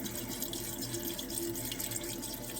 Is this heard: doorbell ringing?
no